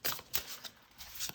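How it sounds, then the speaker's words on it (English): Tarot cards on matte cardstock are shuffled quietly up close, making a few soft, quick riffling and sliding flicks. "So let's just like shuffle"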